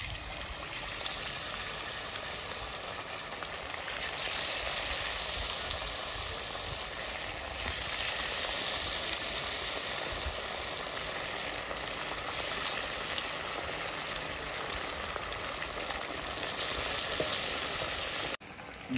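Rohu fish chops dipped in batter fry in hot oil, a dense, even crackling sizzle that swells and eases across the stretch, with no voices.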